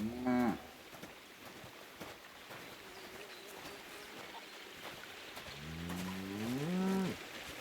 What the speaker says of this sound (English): Unhappy sounding cow.